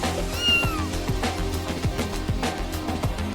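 A cat meows repeatedly in the video game Stray, high plaintive calls over a soft ambient music bed with light plucked notes, close and clear.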